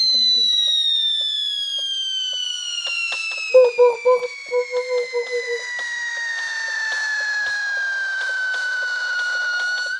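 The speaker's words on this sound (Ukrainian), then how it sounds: "А ні, загорілись бомби." Firecrackers from a fireworks game set off, a rapid burst of about eight sharp pops in a row under long whistling tones that slowly fall in pitch.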